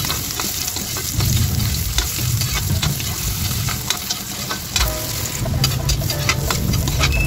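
Carrots frying in oil in a pan, a steady close sizzle with spatula stirring and scraping throughout, no voices.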